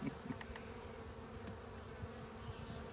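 Honey bees buzz around a small two-frame hive, a faint, continuous low hum of insects with no talking, steady throughout.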